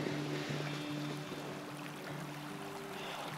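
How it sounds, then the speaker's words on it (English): A creek flowing below a mountain overlook in light snow, a steady soft rush of water with a faint low hum and a slight wind, distant and quiet throughout. "is the creek below me down here and a little bit of snow hitting my coat and the slight wind"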